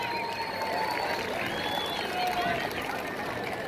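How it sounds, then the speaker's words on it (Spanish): Steady crowd applause at a ranch rodeo event in Acuitzeramo, Michoacán, with a busy murmur of voices underneath, holding at an even level throughout. "Vamos a recibir con un fuerte aplauso"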